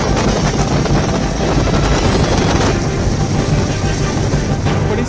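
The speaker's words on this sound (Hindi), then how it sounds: "श्रद्धालुओं का स्वागत करने के लिए हेलीकॉप्टर से लगातार पुष्प वर्षा की गई" A helicopter flies over the huge Kumbh Mela pilgrim crowd in Prayagraj while showering flowers, giving a loud, continuous rotor roar with a rapid chopping texture throughout.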